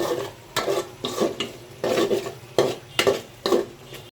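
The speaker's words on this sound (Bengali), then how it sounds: "বেরেস্তা দিয়ে আমি ভালোভাবে নাড়িয়ে দিচ্ছি।" Haleem is stirred in a pot with fried onions (beresta), producing rhythmic scraping strokes about every half second over a soft background sizzle, close and clear with no talking.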